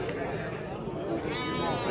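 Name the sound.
goats bleating at a livestock market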